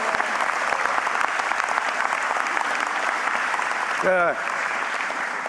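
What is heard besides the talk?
audience round of applause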